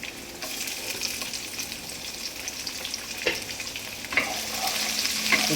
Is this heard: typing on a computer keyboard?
no